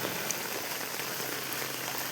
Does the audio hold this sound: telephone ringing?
no